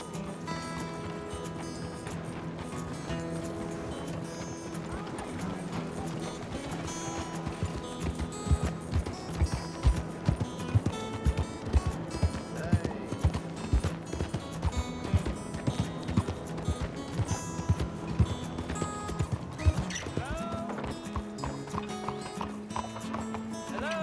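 Horse hooves clip-clop at a steady trotting rhythm in the video game Red Dead Redemption 2, set against continuous game music throughout.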